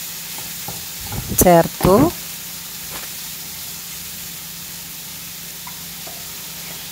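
Carrot is stirred into momo filling frying in a pan: a steady sizzle runs throughout, with a brief burst of louder scraping and stirring near the start, and a voice speaks briefly.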